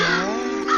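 A crow caws once in a long, drawn-out call, close and fairly loud, with no other sounds around it, heard during a motorcycle trip from Chennai to Munnar.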